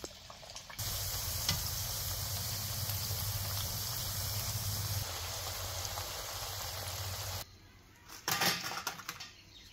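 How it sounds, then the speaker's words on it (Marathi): Fenugreek puris fry in hot oil with a loud, steady sizzle that keeps on for several seconds, then stops and gives way to a few near clatters and stirring noises. "त्या वर खाली करायचं म्हणजे तेलात व्यवस्थित तळलं जातं."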